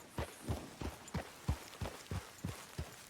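Horse hooves clip-clopping in Red Dead Redemption 2, a steady trot of about ten crisp, evenly spaced footfalls, close and moderately loud with no talk over them.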